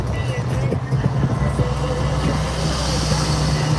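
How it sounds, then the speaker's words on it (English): A small engine runs nearby at a street bar on a Hollywood Walk of Fame tour, giving a steady low hum over constant city background noise. "Now you hear a little engine from the bar."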